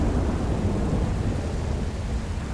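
Thunder rumbles over a steady wash of rain in a GTA 5 thunderstorm over Blaine County, with freezing rain and sleet, a dense continuous low roll that stays loud throughout, with no voices.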